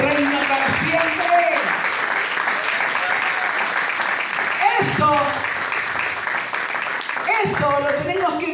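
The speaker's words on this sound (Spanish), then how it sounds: "Dele fuerte el aplauso al que vive y reina para siempre." A church congregation applauds loudly and steadily during a worship service, a dense sustained clapping with voices and singing mixed in throughout.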